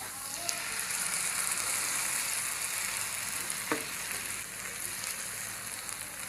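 Tomato paste and onions sizzle and fry steadily in a pan, a continuous close hiss with a brief stir or clink partway through, no voices.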